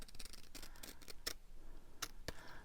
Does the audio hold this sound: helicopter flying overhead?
no